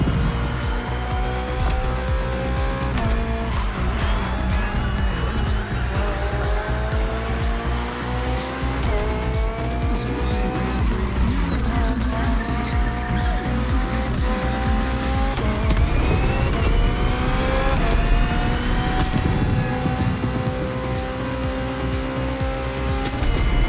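A hybrid V8 race car in The Crew Motorfest roars continuously at high revs, with rising gear-change sweeps and intermittent tire squeal through corners, loud and close throughout the race.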